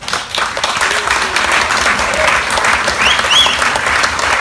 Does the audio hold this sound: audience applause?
yes